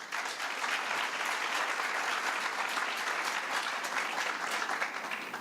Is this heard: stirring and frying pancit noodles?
no